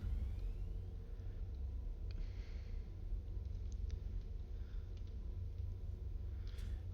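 A vehicle engine in Space Engineers 2 drones low and steady throughout, with faint scattered clicks and ticks on top.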